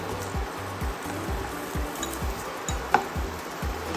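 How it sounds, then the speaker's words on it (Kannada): Dates tipped into a hot pan already warming raisins for a sugar-free dry-fruit laddu, then stirred: steady close sizzling with a scraping stir and one sharp clink, no voices. "ಇದೀಗ ಡೇಟ್ಸ್ ಹಾಕ್ತಾ ಇದ್ದೀನಿ"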